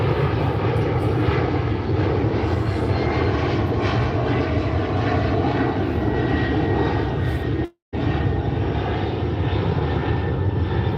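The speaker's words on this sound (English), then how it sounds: "Let the plane pass." A fixed-wing airplane passes overhead, its engine roar loud and steady throughout with no speech over it, broken only by a momentary dropout.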